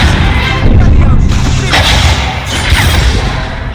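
The Incendio fire spell fires in a Hogwarts Legacy fight as loud, dense blasts and whooshing bursts with several forceful impacts in a row, and a voice shouts within the combat noise.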